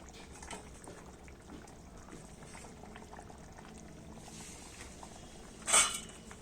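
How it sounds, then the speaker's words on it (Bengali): Fish curry simmers in a pot with a soft, steady bubbling and low liquid texture, interrupted near the end by one sharp clink of a utensil against the pot. "ঝোলটা ফুটে উঠেছে, এবার আমি ওতে মাছগুলো দিয়ে দিচ্ছি"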